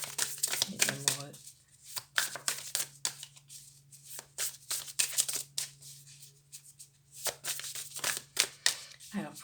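Tarot cards being shuffled in quick riffling bursts, close and crisp, broken by short pauses, with someone speaking French between and over the shuffles.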